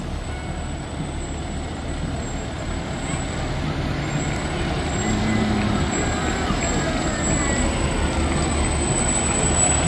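Fire engine rolling past in a fire department parade in Pleasantville, a steady loud diesel engine rumble that slowly grows nearer, with a faint high whine above it and no talk.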